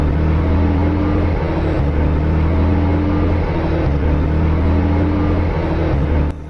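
Car engine running steadily with a low rumbling drone, the note dipping and shifting every couple of seconds as if changing gear, before cutting down sharply at the end.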